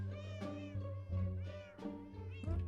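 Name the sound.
cat meowing in the video game Minecraft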